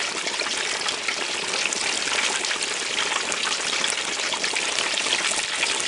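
Hot oil bubbles vigorously around a whole turkey being deep-fried, a dense, steady fizzing and crackling hiss that continues without pause at close range.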